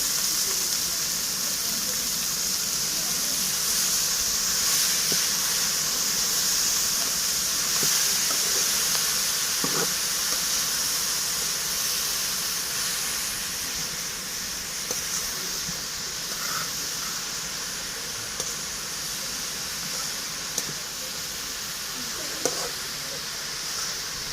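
Helencha greens cook in oil with fried onion and chili in a village kitchen, giving a steady, continuous hiss and sizzle that holds throughout, with occasional light clicks and a slight fade in the later part.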